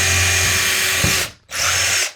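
A power drill bores holes through a board, a loud close steady whine that cuts out briefly and then starts up again for a second run.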